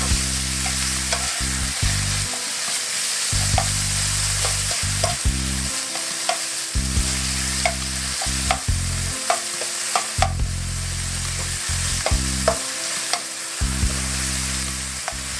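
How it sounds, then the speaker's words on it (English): Ground beef browns in a pot for a cheesy one-pot pasta, giving a steady loud sizzle broken by repeated scraping stirs and light utensil knocks, with no talking. "Let the meat brown for a couple minutes."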